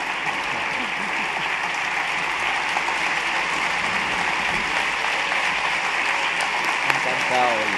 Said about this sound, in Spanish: Yo creo que vamos a recibirles ya con un fuerte aplauso.